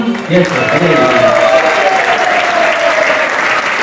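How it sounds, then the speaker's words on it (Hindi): Audience at an ISKCON youth anti-addiction awareness event claps steadily for several seconds, a dense, even patter of many hands close by, with a voice speaking over it near the start. "ताली बजाते रहिएगा क्योंकि इसमें पैसे नहीं लगते हैं"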